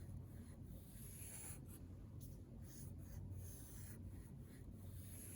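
A marker pen scratches lines and small curves across paper in a sketch, a faint continuous dry rubbing with brief strokes and pauses, heard up close with no talk.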